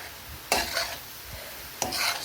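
Cabbage curry with curry leaves and chili powder is stirred in a pan on a high flame, two scraping swishes of the spoon standing out over a faint sizzle.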